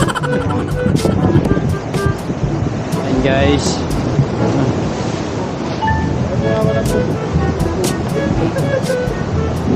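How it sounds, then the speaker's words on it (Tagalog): Strong sea waves surge and crash on the coast behind Kaybiang Tunnel, a continuous loud roar with wind buffeting the microphone, while people talk over it throughout. "Napakalakas ang alon."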